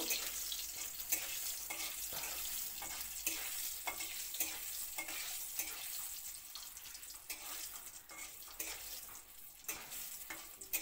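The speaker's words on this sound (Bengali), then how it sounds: "তারপর দিয়ে দিলাম শুকনো লঙ্কা। ভালো করে ভাজতে হইব।" Dry red chillies frying in hot oil, a dense, even crackling sizzle that stays close and steady throughout, with faint stirring underneath.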